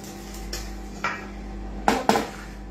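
A utensil stirring fine semolina in a pot, heard as a few soft scrapes and sharper clinks against the pot at irregular intervals over a quiet background.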